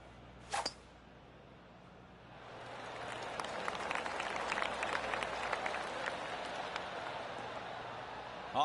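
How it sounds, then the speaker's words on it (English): A sharp tee shot click in the PGA Tour 2K25 video game is followed by a crowd of golf spectators around the course breaking into polite clapping that swells and continues steadily. "I can hear the golf claps around the course."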